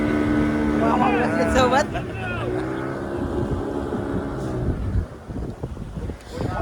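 Motorboat engine droning steadily at sea off Malvan beach, with wind buffeting the microphone and people talking over the running boat.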